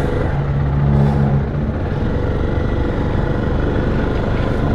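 A Zontes X310 300cc motorcycle engine rumbles steadily and loudly during a test ride, a close, constant low drone with mixed wind noise.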